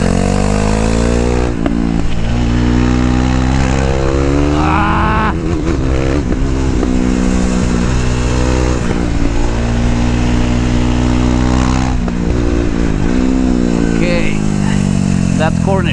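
KTM RC 390 sport motorcycle racing hard on a track, its engine loud and close throughout, revving through downshifts under braking and climbing in pitch as throttle is reapplied, with a rider talking over it.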